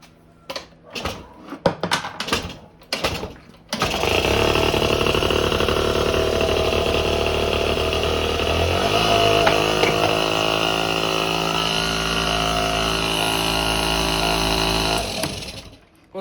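Suzuki Let's moped engine cold-starting after several sharp knocks and clatters, then idling steadily for about eleven seconds with a constant loud buzz before cutting off, close and alone.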